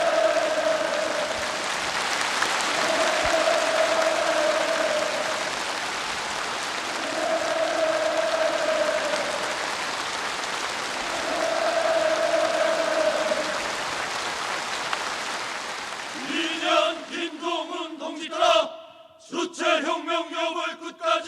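A packed youth league congress crowd roars repeated hurrah cheers in stormy, rhythmic waves, about one surge every two to three seconds, before the chanting breaks into shorter, uneven shouts.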